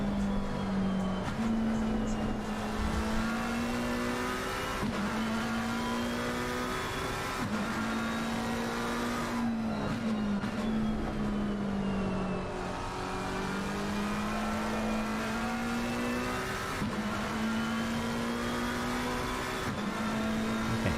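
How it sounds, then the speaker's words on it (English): A race car engine in the video game Assetto Corsa at Watkins Glen hums steadily with repeated rising and falling revs, a continuous close-up motor drone with no talking. "Let's see what it sounds like when we've got a car moving"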